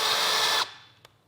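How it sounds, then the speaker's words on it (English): Power drill boring through a plastic mud flap on a 2023 Toyota Tacoma, a close, loud high whine lasting about half a second before cutting off, followed by a single faint click. "drill through the holes we already drilled,"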